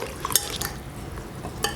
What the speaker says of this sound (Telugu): ఈ పేస్ట్ మొత్తం కలుపుకోవాలి.